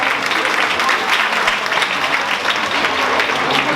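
Steady applause fills the room at the start of a fashion show in Taglio di Po, a dense, even wash of many hands clapping together that holds for several seconds with no voices over it.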